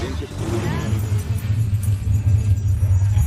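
A car rolls past a group of hippies with a deep, steady engine rumble close by, while a voice speaks over it.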